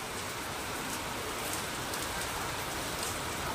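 Continuous heavy rain falling outside at night, a dense, even roar of drops with no voices.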